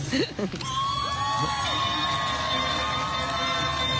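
Crowd at the San Francisco Chinese New Year Parade cheering for ribbon dancers, a steady dense roar of voices with shouts and whoops, loud and close and holding throughout, with a sustained whistle-like tone above it.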